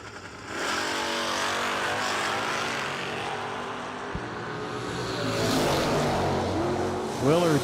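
Terry Willard's Camaro and a rival drag car launch at a no-delay drag race, a loud sustained engine roar building and shifting in pitch as the cars accelerate away.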